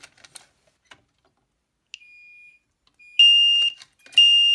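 A fire alarm triggered by a pull station sounds: a steady high-pitched electronic tone that cuts in and then blares louder in two long pulses, after some faint clicks.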